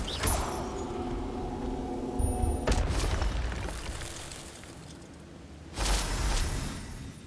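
Two booming, crackling blasts from the Incendio fire spell cast in Hogwarts Legacy, a few seconds apart, each swelling then fading, with a low rumbling game ambience between them.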